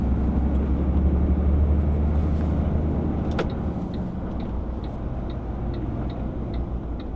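Road traffic rumbles past a truck, a loud low engine and tyre drone that eases slightly after a sharp knock, with a faint steady ticking running underneath.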